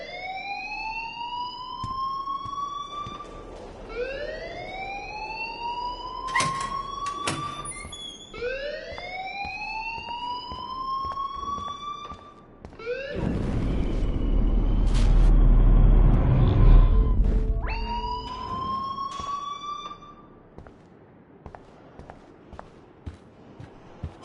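A blaring alarm inside a video game, repeated rising electronic whoops cycling every couple of seconds, broken midway by a louder rumbling burst of noise before the whooping returns and fades, no speech over it.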